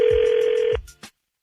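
A telephone rings with one long electronic trill that cuts off abruptly, followed by a couple of faint clicks as the handset is picked up, close and without speech.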